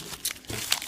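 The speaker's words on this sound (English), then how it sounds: "I'm unwrapping some other oils. We keep them nicely wrapped in our bubble wrap" Bubble wrap crinkling and crunching as essential oil bottles are unwrapped, a few brief rustling bursts close by in a quiet room.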